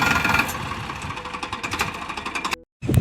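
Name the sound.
tractor engine running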